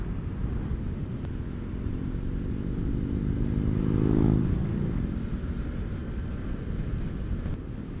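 A Harley-Davidson Fat Bob motorcycle opens up on a ride, its engine note swelling louder toward a peak mid-clip and then easing off, heard over steady wind and road rush.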